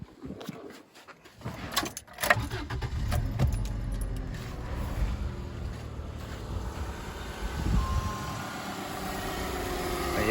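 A 1995 Subaru Legacy starts with a key jingle and brief crank, then settles into a low, steady idle rumble heard close and fairly quiet.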